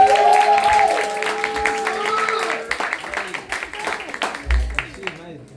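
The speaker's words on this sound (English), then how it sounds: "Clap it up for Dijon" Audience clapping for a performer at a rhythm and soul open mic night, scattered applause and cheering under a host's talking voice, thinning out over a few seconds.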